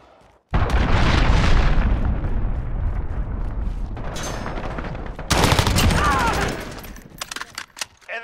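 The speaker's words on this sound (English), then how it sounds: "Allied cruise missile launched." Cruise missile strike explosions from Call of Duty: Modern Warfare erupt loudly after a brief quiet start, a sustained roaring blast followed by a second burst with gunfire crackle before fading.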